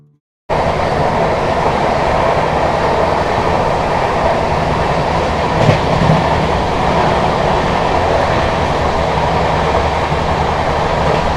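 A Howrah–Bardhaman local train passes close by while overtaking, a loud continuous rumble of wheels and carriages heard from aboard the Patna Janshatabdi Express.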